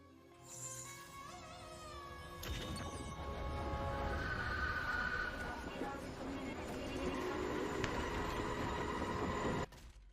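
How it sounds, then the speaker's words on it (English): A train in the TV show Ms. Marvel rushes past with a heavy rolling rumble and thin metallic squeals from the wheels. The sound builds and holds for several seconds before cutting off abruptly. "A train?"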